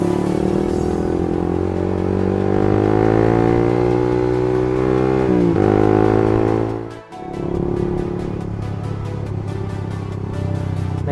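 A manual-clutch motorcycle pulling away after a slow, half clutch release: the engine drones loud and close, its pitch climbing steadily, then dips briefly near the end before settling into a quicker ticking idle-like rhythm.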